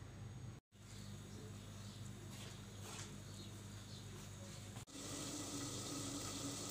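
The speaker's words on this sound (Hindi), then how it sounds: "ये बॉयल हो रहा है" Green tea and ajwain water boiling in a pot on the stove, a steady close bubbling and hissing wash that carries on without speech, with a brief dropout early and a louder, brighter rush near the end.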